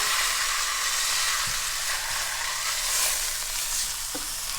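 A pot roast sears in a hot pan, giving a steady, close, loud sizzle throughout, with a couple of soft thuds as the meat is flipped over.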